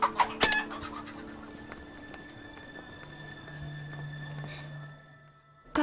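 A chicken clucks at a market, a few short sharp clucks at the start and a brief call at the end over a quiet, steady background hum.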